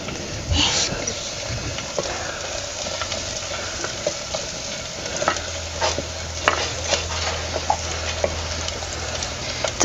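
Finely grated coconut frying in oil with cumin, garlic and coriander over a village wood-fired stove, a close steady sizzle broken by frequent scraping and tapping stirs, with a low hum running beneath.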